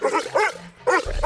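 Xoloitzcuintli dogs bark in quick succession, close and loud, four sharp barks in two pairs with a short gap between them.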